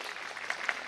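An audience at a school annual day function claps in a dense, steady burst of applause that fills the whole second without a break.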